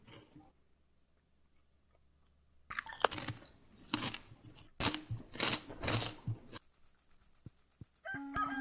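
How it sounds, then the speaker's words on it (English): Food is chewed close to a microphone during Stardew Valley play, with irregular crunchy bites and clicks in bursts after a near-silent start, ending with a brief electronic tone. "And I'm hoping that crunching noise is not too loud."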